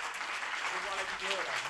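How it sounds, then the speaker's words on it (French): Applause from an audience at a workplace quality-of-life debate event, a short burst of dense clapping with some voices mixed in. "On peut les applaudir."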